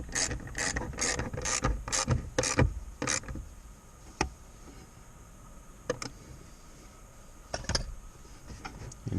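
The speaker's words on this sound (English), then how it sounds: "Going to tighten it down." A ratchet wrench tightening a bolt while a Rubigrid mount is installed on a 2015 Jeep JK, with a quick run of sharp clicks followed by scattered single clicks, close and clear.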